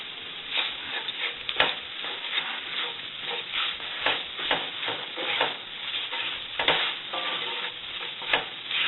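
A roux of flour and grease sizzles steadily in a cast iron skillet while a utensil scrapes and stirs it in a repeating rhythm, close and continuous, with no voices.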